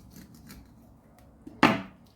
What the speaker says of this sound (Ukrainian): а тепер мені треба розділити її на філе